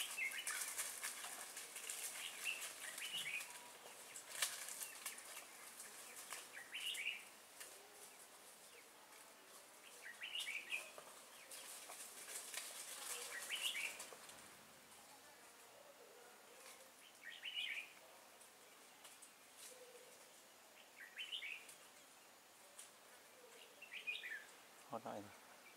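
A red-whiskered bulbul sings near a bird trap in a mountain forest, giving short bursts of song repeated every few seconds at moderate distance, with faint insect buzz and rustling in the background.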